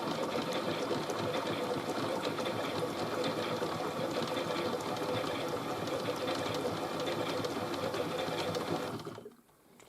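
A Miele Novotronic toy washing machine by Theo Klein tumbles with a steady, dense mechanical whir and churning hum, holding at an even loudness close by before cutting off abruptly near the end.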